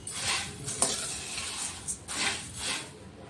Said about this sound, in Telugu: అందుకని పెనంలో బొరుగులు వేసి